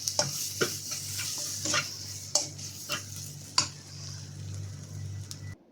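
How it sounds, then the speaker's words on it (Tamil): Tomato and spice masala with turmeric, chilli and coriander powders sautéing in a pan, a steady close sizzle under repeated scraping stirs and occasional utensil knocks, with no talk. "எல்லாத்தையும் சேர்த்து நல்லா வதக்கிக்கணும்."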